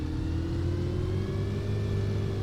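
Bus engine with a Voith automatic gearbox in the OMSI 2 simulator, a steady low droning rumble with a faintly rising whine as it pulls away, continuous and close, with no talking.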